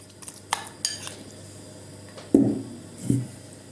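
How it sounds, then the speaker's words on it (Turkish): A spoon stirring savory raw börek filling in a bowl, with a few light metallic clinks followed by two louder scraping, clattering strokes, close and with no talking. "Şöyle her seferinde harcınızı karıştırın."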